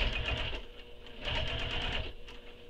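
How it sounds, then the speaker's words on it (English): A sewing machine top stitches a seam on an Eira Tote bag, running in a steady whirring stream with a brief slowdown partway through, close up and alone. "top stitch this seam using the seam allowance given in the pattern"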